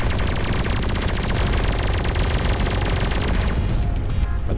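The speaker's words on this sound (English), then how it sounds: "Man, they just opened fire on me right away." Rapid, sustained gunfire from enemy ships in the space combat game Everspace 2, a loud continuous barrage of machine-gun-like shots with dense overlapping bursts and no talking.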